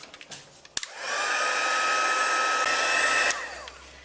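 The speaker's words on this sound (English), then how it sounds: "Now we can go ahead and heat set it." A heat tool blowing hot air to set white embossing powder on vanilla cardstock, switched on after a couple of clicks, running as a steady whirring hiss with a rising whine, then cut off.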